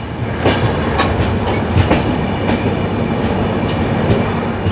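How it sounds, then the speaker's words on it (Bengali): Radhikapur Express pulling out of platform 2 at Kolkata station: a steady, loud rolling rumble of train wagons with recurring wheel clatter and clicks throughout. "ট্রেন ফাইনালি বেরিয়ে গেল কলকাতা স্টেশনের 2 নম্বর প্ল্যাটফর্ম ছেড়ে"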